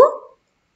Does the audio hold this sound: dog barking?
yes